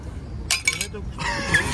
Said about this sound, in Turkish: Hadi hepimiz tokuşturalım.